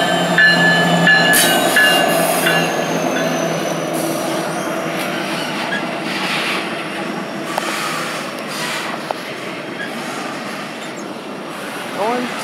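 Norfolk Southern train 228, southbound, rolls past near Shepherdstown with a steady rumble of rail cars and faint wheel squeal. Two sharp clanks break in along the way, and voices are faintly present.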